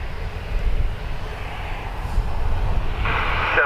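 A fixed-wing airliner carrying the Irish rugby team departs Dublin Airport, heard as a steady broadband engine roar and rushing rumble that swells slightly toward the end, with no voices.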